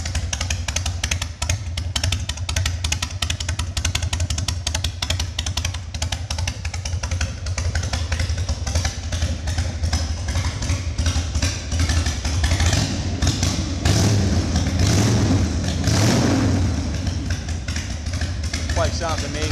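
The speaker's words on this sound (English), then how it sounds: "My fires right up. And idles only like a high performance Evo does." A Harley-Davidson Softail Custom FXST with an Evo engine idles close by, a loud steady lumpy throb with a brief rise in revs toward the end, while a person talks over it.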